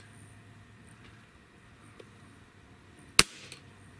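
A single sharp mechanical click from the trigger of a Benjamin EB22 air rifle being pulled against a Lyman trigger gauge, close and crisp against quiet room tone, followed by a softer small click.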